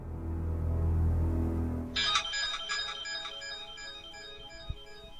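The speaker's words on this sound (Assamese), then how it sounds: "অ এডাল ফোনটো বাজি আছে নহয়।" A phone ringtone starts up in a home midway through, playing a bright repeating melodic ring after a low droning background, with no voices.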